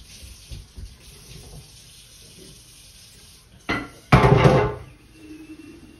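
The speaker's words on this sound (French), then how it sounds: "Je vais quand même arroser un peu et puis je vais le mettre sur tapis chauffant." Water poured from a watering can onto potting soil for a Thai Constellation plant, a short splash followed by a louder, steadier pour lasting under a second, close by and alone.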